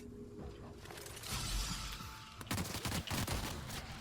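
Rapid-fire gun in The Outer Worlds: a quick string of sharp shots in a fast, dense burst, then a tight rattling volley in the second half, loud and close over a steady background game hum.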